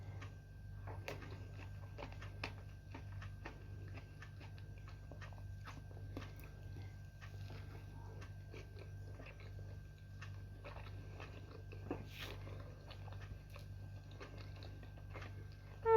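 Someone eating breakfast in a quiet room, chewing and biting with irregular soft crunches and clicks close by for about sixteen seconds over a low steady hum, without talk.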